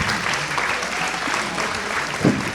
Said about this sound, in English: Can we make the applause a little bit louder, please?